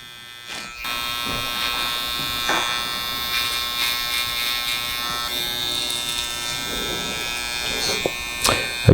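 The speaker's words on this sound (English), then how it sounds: "with the trimmers, you just use these and it just takes literally your beard down like a wet shave" Electric hair trimmers buzz steadily and close up while taking a beard down short during a barbershop taper and shape-up, a constant whining hum with slight shifts in pitch and brief bumps as the blade moves over the skin.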